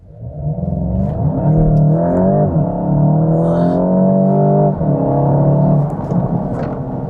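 A 2025 Volkswagen Golf GTI in sport mode accelerates hard, its engine droning loudly and climbing in pitch through several gear changes, heard close from inside the car.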